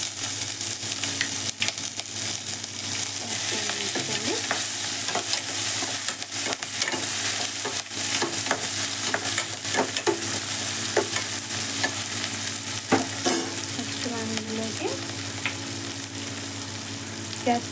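Urad dal and chana dal fry in oil in a pan for tomato bath, giving a continuous loud sizzle with scattered crackles and occasional scraping stirs, with no talk over it.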